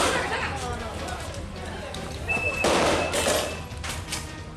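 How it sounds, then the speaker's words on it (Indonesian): Police warning shots fired at a street brawl in Makassar, several sharp cracks heard at a distance amid crowd noise and street commotion, with a reporter talking over the scene. "Polisi melepaskan tembakan peringatan untuk membubarkan tawuran."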